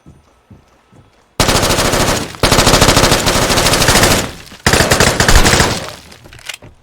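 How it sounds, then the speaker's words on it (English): Automatic weapon fire in a gunfight in the video game Vigor: a few faint shots, then long, loud, rapid bursts with brief pauses between them, close and dominant. "there's really no reason I won that gunfight"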